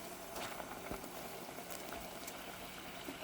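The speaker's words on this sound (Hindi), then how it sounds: "इसमें पानी उबल रहा है और गुड़ भी मिक्स हो गया है" Steady low bubbling and simmering of water with jaggery in a pot for tea, a continuous soft rolling texture with faint occasional pops, fairly quiet and close.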